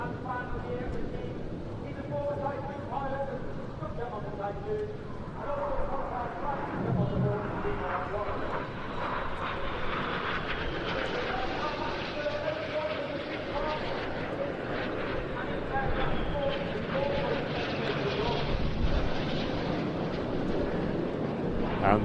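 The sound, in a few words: Red Arrows jets performing an opposing roll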